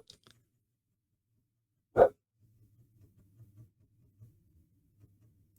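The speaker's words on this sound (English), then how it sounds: "Please excuse any dogs barking in the background." A neighbour's dog barks once, loud and sharp, from just behind the fence, followed by a faint low murmur in the background.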